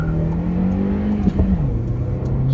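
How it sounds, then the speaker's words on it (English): A VW Polo 6C TSI with a Tweek cone air filter rumbles under acceleration, a steady low engine drone with a brief rev swell and a dip in pitch, heard from inside the car. "you guys can hear how this rumbling sound in this cone filter sound like"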